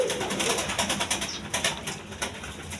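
Giribaz pigeons coo in a steady run of soft, throaty pulses close by, with a little wing or cage shuffling and no voices.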